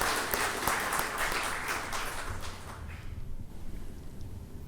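Applause from an audience welcoming the governor at a ceremony at Maharashtra Raj Bhavan, dense steady clapping from many hands that gradually thins and fades out.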